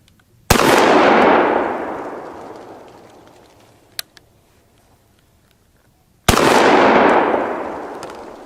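Two loud Rossi Overland coach gun blasts fired at a big steel tank outdoors, each a sharp crack followed by a long rolling boom that fades over several seconds; a faint tap sounds between them.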